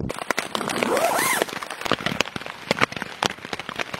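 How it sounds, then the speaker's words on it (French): Hailstones patter and clatter on a hard surface in quick irregular bursts during a hike near the Puy de Dôme, with a brief whooshing sweep early on. "donc là on est sur une pluie de grêlons en fait."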